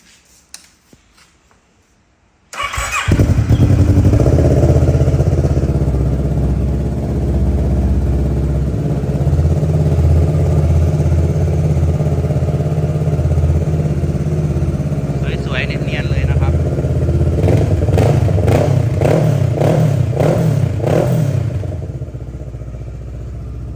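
A 2012 Kawasaki ER-6n motorcycle engine with an aftermarket exhaust starts after a brief quiet moment, then runs loudly and steadily close by, with a few quick revs near the end.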